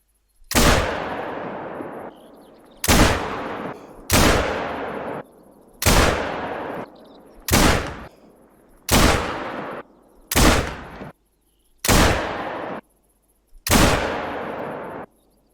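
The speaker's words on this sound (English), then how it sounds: "Starting from 50 meters, I'm going to shoot 10 shots" Ten sharp, loud Ranger .243 rifle shots ring out one by one at a shooting range in theHunter: Call of the Wild, each crack trailing a short echoing decay, spaced about every one and a half seconds.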